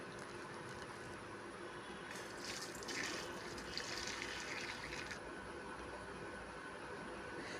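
Water from cooked cowpeas pours through a sieve, a steady wash of splashing that swells between about two and five seconds over a constant background hiss, with no talking.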